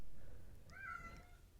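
A house cat gives a single short meow in the background, faint and somewhat distant over low room noise.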